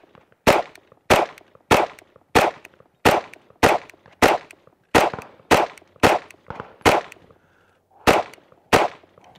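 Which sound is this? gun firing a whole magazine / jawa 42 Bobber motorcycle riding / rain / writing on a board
gun firing a whole magazine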